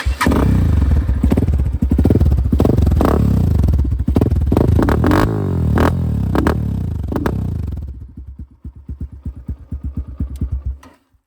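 A 2024 Kovi Lite 300 motorcycle engine revs loudly with rough, throaty exhaust bursts, then drops to a lumpy idle, its rhythmic putter clearly audible.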